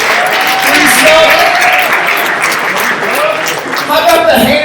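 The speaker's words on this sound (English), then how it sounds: "Round of applause, Defense Soap, free soap, free soap." Audience applause at a combat-sports invitational event, sustained clapping and cheering from a crowd filling the space under an announcer's loud voice.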